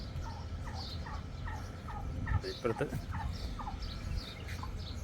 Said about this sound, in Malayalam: ടർക്കി കോഴീസ്.